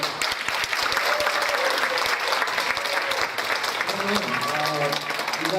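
An audience at a Korean community association's 2013 year-end party in Montgomery claps loudly and steadily for several seconds, and a voice speaks as the applause continues.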